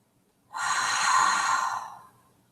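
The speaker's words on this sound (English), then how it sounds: "Breathing it all the way down to your toes." A single long, deep breath during a guided meditation, an airy breathy rush lasting about a second and a half, close and clear with no talk.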